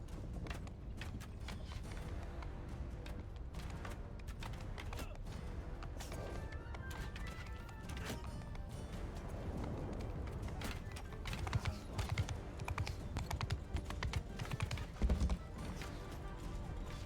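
Horse hooves gallop steadily in the video game Mount and Blade II: Bannerlord, a continuous quick clip-clop rhythm under battle and ambient game sounds, with no talking.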